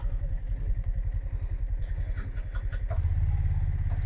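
A Yamaha MT-15 motorcycle's engine runs at a low, throbbing idle close by as the bike is parked, with a faint rise in level toward the end and no talking.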